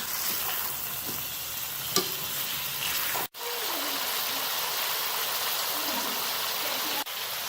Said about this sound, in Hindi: अब हम इसमें चिकन शामिल करेंगे। चिकन को अच्छी तरह फ्राई करेंगे।